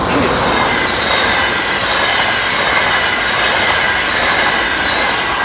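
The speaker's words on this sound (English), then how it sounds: "Those long-distance trains are a bit louder than I took into account for" A long-distance train rumbles past nearby, a steady, loud roar of rail noise with faint wheel hiss that holds level throughout without clear breaks.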